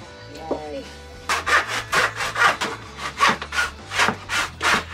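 Part of a narrowboat wall being hand-sawn: steady, rhythmic back-and-forth rasping strokes, close and fairly loud, begin after a brief quiet moment with a short voice.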